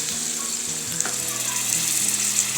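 Warm water goes into a pan of chicken curry, and a loud, steady sizzle and hiss rise close up. A brief splash and stir sounds come through, with no talking.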